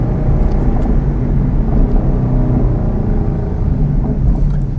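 A 2012 Ford Boss 302 with its 302 V8 and six-speed manual revs hard on the move, a loud, steady engine roar with rumble running unbroken throughout and no talking.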